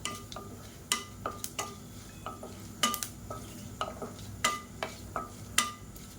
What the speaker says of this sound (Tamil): எல்லாத்தையும் நல்லா வறுத்துக்கலாம்.